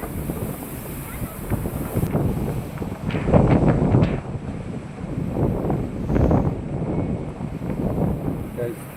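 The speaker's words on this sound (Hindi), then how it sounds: "बारिश जोरों से चालू हो चुकी और तेज़ हवा चल रही है सांचौर सिटी में" Strong wind gusts roar during a heavy rainstorm in Sanchore city, buffeting loudly in waves with rushing noise, and muffled voices underneath.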